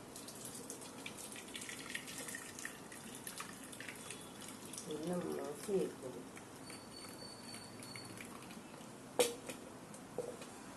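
Cooking water from greens trickles and splashes steadily through a strainer at a low level, with a few brief clinks and splashes along the way.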